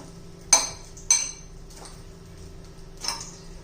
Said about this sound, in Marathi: छान असं मिक्स करून घेऊया